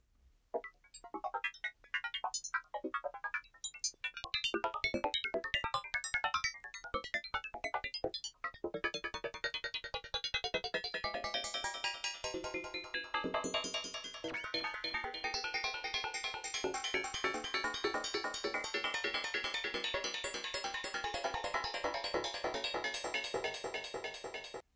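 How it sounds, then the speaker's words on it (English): Synthesizer bell tones from sample-and-hold randomization ring out in rapid, atonal psytrance-style patterns, first sparse and plucky, then dense and shimmering, with no voices. "You can hear that we get some cool atonal bells out of that."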